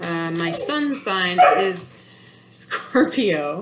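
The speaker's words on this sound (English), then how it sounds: "Sorry, that's my dog." A pet dog barks and yips in short repeated bursts close by, overlapping and alternating with a person talking indoors.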